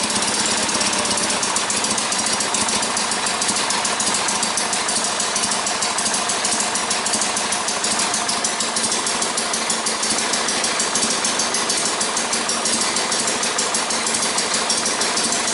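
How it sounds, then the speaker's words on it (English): An old tractor engine idles low after a cold start, giving a loud, close, rapid knocking chug that runs steadily and evenly throughout with no talking. "How's that for a low idle, huh?"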